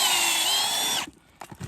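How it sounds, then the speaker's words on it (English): A cordless power drill fitted as a precision tapper whirs at high speed, boring a 2-inch-deep hole into a maple tree on a farm, then stops abruptly, followed by faint handling noises. "drill your hole"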